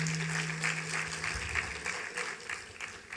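Audience applause at a poverty status report launch, a moderate spread of clapping with a low hum underneath, steady across a few seconds.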